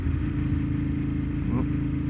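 A Ducati Monster 1200 S motorcycle is ridden on the road, its mid-pitched engine droning steadily and close throughout, with a brief shift in tone near the end.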